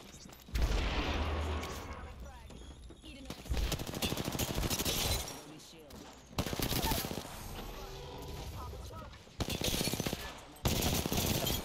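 Rapid bursts of automatic gunfire in an Apex Legends match on Olympus, loud and close, coming in several sustained volleys with short gaps, and a voice talking between them.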